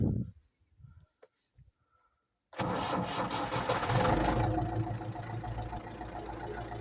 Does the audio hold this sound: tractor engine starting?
yes